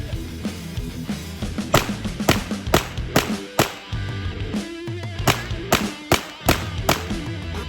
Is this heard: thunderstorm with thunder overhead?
no